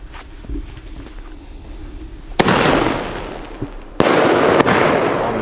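A Lidl Goldfinger firework battery goes off outdoors at New Year's Eve, starting with a few small pops, then two sudden loud bursts that each turn into a long crackling hiss. Loud and close, with no talking.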